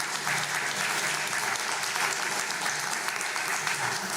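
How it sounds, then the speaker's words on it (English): A round of applause for the candidates at a South Arkansas candidate debate: continuous, dense clapping from a studio audience, steady and even throughout. "we're getting a round of applause for our candidates"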